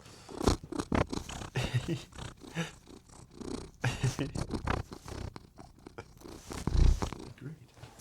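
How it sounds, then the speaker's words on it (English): A pet cat purrs loudly and continuously right beside the listener, a rough rhythmic rumble with soft scratching and rustling mixed in. "He's a loud ass purr."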